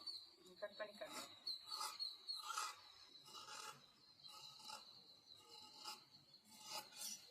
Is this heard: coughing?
no